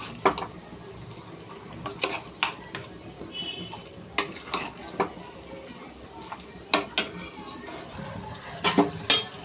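Mango chicken curry is stirred in a pot, with scattered utensil clinks and scrapes against a soft bubbling background and faint voices between the knocks.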